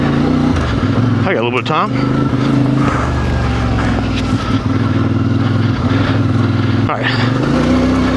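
A CF Moto IBEX 450 adventure motorcycle ridden off-road at a spirited pace in mostly second gear, its engine droning loud and close throughout with shifting revs, while a rider briefly speaks over it.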